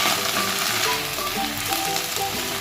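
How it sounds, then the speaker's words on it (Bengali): Drumstick leaves frying in hot oil in a pan, a loud, dense and unbroken sizzle close by, with faint stirring beneath it. "ওই তেলের মধ্যে আমি সজনে শাকগুলো দিয়ে দেব। এবার শাকগুলো ভালো করে ভেজে নিতে হবে।"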